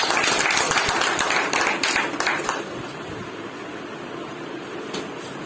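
An audience clapping loudly at a business seminar, dense applause for about two and a half seconds, then fading to a softer room murmur.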